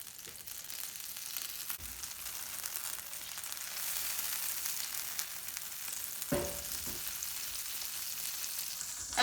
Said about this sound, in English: I'm just going to melt a couple tablespoons into a nice hot cast iron skillet